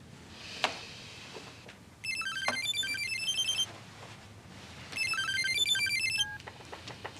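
A telephone rings in two electronic bursts, each about one and a half seconds of trilling bell tones, separated by a quiet gap, with faint room noise and a short knock before the first ring.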